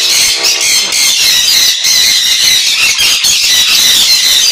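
Lutino pet birds at a bird farm squawk loudly and continuously, with shrill overlapping calls and squeals that fill the space close by, no talking.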